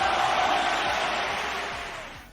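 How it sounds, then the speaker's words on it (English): A studio audience gives a big round of applause, a dense wash of clapping and cheering that stays loud and steady, then thins slightly and fades out near the end. "Big round of applause."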